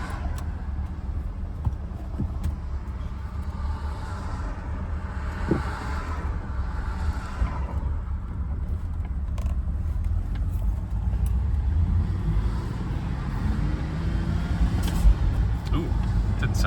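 A 2006 BMW 325i runs after a spark plug change, its engine a low steady rumble inside the car that grows slightly louder toward the end, with a person talking over it.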